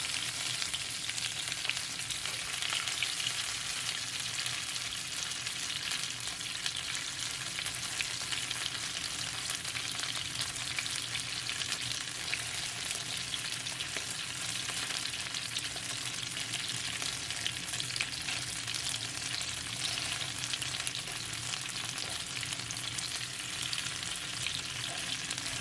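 Chicken wings sear in a pot, giving a steady close hiss of crackling and sizzling oil that continues without break, with no voices.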